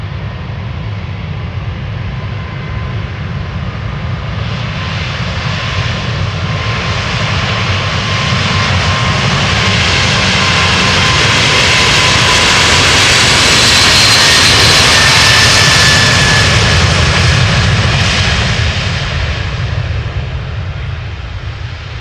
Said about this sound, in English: Now, this is United Airlines flight 71. It's a 777-200 going to Newark.